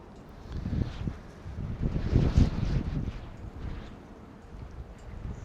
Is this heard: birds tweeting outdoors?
no